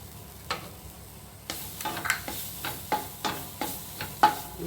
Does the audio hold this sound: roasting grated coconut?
yes